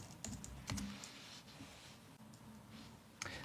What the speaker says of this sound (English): And then we're going to type aka.ms/MFA setup.